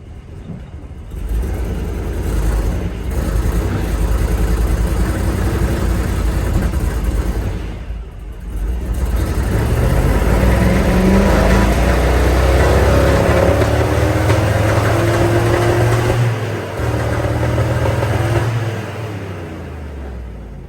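A Chevy 5-ton army truck engine roars and revs under heavy load, the rumble swelling and dipping over about twenty seconds with a brief lull near the start and another midway, loud and close.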